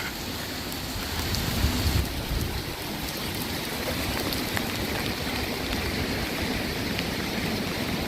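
Steady rain pours onto a street in Pattaya, a dense, continuous hiss with occasional heavier patter and no voices.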